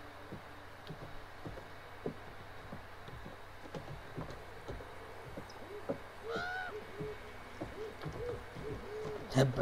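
In the video game The Quarry, an owl-like bird hoots over a quiet, dark ambience of faint repeated thumps, its wavering call rising midway through and ending with a sharper sound.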